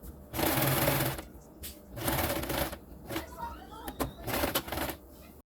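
A sewing machine runs in several short bursts while stitching a V-neck collar, with pauses in between and someone talking between and over the runs.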